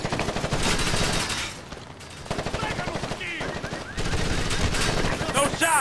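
Rapid automatic gunfire and scattered shots ring out in the video game Ghost Recon Advanced Warfighter 2, dense bursts crackling almost continuously with a short lull partway through.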